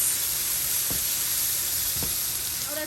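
Shrimp fried rice aromatics sizzle steadily in hot oil, a loud, continuous frying hiss close up with two brief stirring scrapes and no voices.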